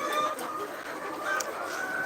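Over-100-week-old layer hens on a farm, some with bare, featherless backs from pecking, make a steady murmur of clucks and soft coos from a flock close by, with no voices.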